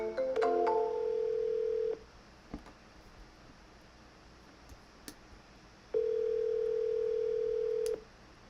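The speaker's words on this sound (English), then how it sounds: "So I usually just double dial those." A telephone call being dialed twice: a few quick dial-tone beeps, then a steady electronic tone lasting about two seconds, a pause with faint clicks, then the same steady tone again, clear and close with no talking.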